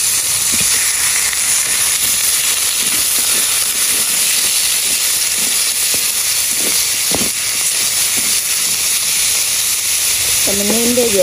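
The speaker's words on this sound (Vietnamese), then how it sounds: "Tỏi mình phi thơm rồi, bây giờ mình cho thịt vô." Pork dropped into a hot pan over garlic already fried golden in rendered fat, a loud steady close sizzle and hiss running throughout with small pops and a brief scrape near the end.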